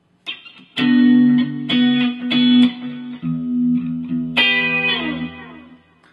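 Electric guitar plays measure 28 of a song, a slow run of plucked, ringing notes and double-stops over a sustained low bass note, with a brighter chord struck near the end that fades out. The guitar plays alone with no talking.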